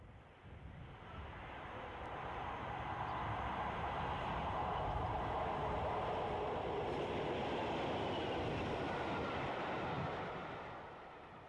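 A rail tour hauled by DRS Class 20 diesel locomotives rumbles past, a broad droning roar that swells to a steady peak and then fades at the end, heard from some distance.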